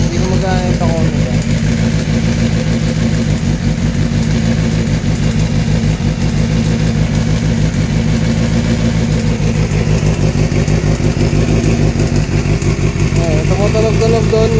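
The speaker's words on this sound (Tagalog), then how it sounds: "Tumutunog-tunog doon yung dalawang gear na magkapatong." A Honda CBR250R motorcycle engine runs steadily at a close, loud idle with a rough mechanical rattle from its gears, while someone talks over it.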